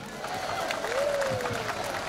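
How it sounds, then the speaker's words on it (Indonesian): Audience at a military anniversary stand-up comedy show applauds. Quiet crowd clapping and cheering run under a held voice. "Berikan tepuk tangan untuk Pomdam kami."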